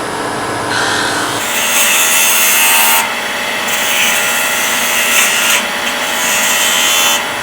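A small hollowing tool cuts into spinning wood on a lathe while a Christmas ornament is turned, making loud, continuous rasping shaves in several long passes with brief changes in pitch.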